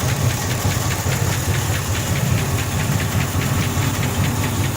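A 1962 Buick Electra engine fitted with a hydrogen generator runs steadily up close, a loud continuous mechanical drone with a rapid, even knocking pulse throughout and no talk.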